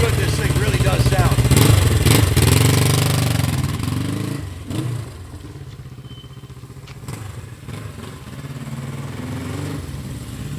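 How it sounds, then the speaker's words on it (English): Exhaust note of a 1975 Honda CL360 motorcycle running steadily close by, loud and rumbling at first, then settling to a lower, even drone over the remaining seconds. "Listen to that exhaust note."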